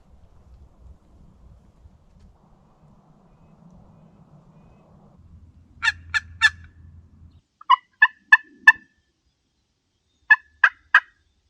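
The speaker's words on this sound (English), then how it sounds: "Today the turkey's on this side." A wild turkey gobbles in Oregon woodland, three distant bursts of rapid, rattling gobbles, each a quick cluster of calls, standing out against quiet low wind.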